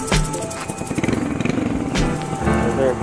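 A Rusi Korak 110cc motorcycle engine chugs with a steady pulsing putter while being ridden, close and fairly loud, with brief voices mixed in.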